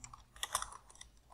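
A street address being typed on a computer keyboard: a short run of quiet, close key clicks in an irregular rhythm with a few louder taps, no voices present.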